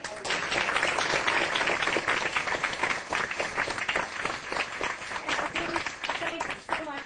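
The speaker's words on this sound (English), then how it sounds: "So I think we deserve a round of applause." Audience applause at an awards luncheon, loud and dense from the start and holding steady for several seconds before easing slightly, with a voice or two mixed into the clapping.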